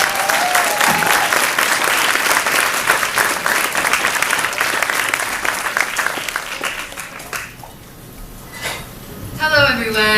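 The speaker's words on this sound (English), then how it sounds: "a big round of applause for Paige Frewer" A crowd at a Nerd Nite talk gives a speaker a loud round of applause with scattered cheers, the clapping gradually thinning and fading toward the end before a voice briefly takes over.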